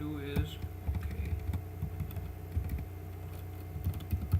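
Quiet, continuous clicking of a computer keyboard as someone types steadily, with soft irregular keystrokes close by and no talking over it.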